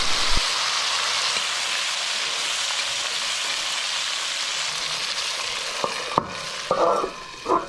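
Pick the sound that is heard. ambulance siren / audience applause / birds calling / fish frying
fish frying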